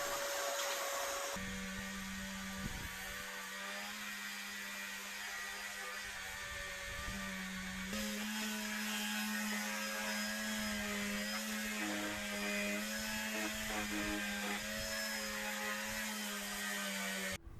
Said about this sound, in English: I was able to sand these into a more pleasing shape